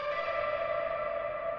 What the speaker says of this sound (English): And then I had this one shot, this guitar one shot,